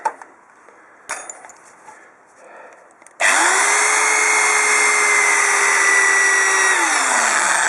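A few faint knocks and rustles, then a 500 W AMS electric drill drilling wood starts abruptly and whines loudly and steadily for several seconds before its pitch drops.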